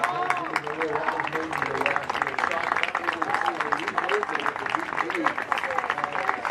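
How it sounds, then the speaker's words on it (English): A crowd claps steadily at a varsity boys' soccer game as a player walks off the field, moderately distant applause running under a commentator's voice. "Lorenzo comes out to a round of applause"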